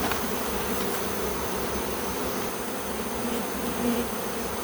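A swarm of honeybees on a tree limb in July, a dense continuous buzzing hum that fills the air, close and steady throughout.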